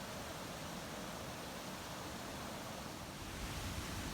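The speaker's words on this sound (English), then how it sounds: "Waterfalls at Banias thunder to supply valuable hydration in the midst of rugged and harsh territory." Waterfalls at Banias, at the foot of Mount Hermon, pour with a steady, dense roar of rushing water that holds evenly for the whole stretch, with no voices.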